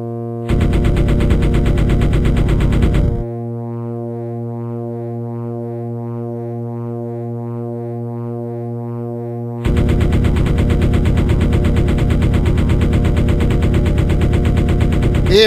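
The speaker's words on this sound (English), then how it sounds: "Here, have some bullets. I've got bullets for you." Machine gun fire in the Aces Over Europe flight combat game, two long sustained bursts of rapid loud shots separated by a steady droning engine hum.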